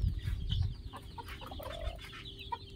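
Desi country chicks of a native village breed give faint, short peeps scattered over a soft low background rumble.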